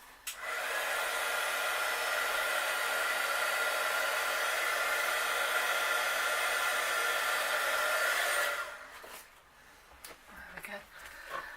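A heat gun sets embossing powder on a stamped card, blowing a loud, steady hot-air whoosh for about eight seconds before it cuts off, leaving faint handling sounds.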